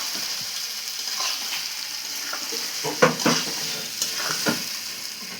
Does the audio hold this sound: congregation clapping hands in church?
no